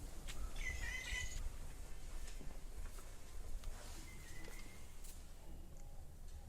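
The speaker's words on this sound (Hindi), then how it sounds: "पक्षियों की आवाज़ें आपको सुनने को मिलती है जो आप शहरों में नहीं सुन सकते हैं।" Faint, scattered bird chirps over a low outdoor rumble at a leafy green site near Nandgaon, with no one talking.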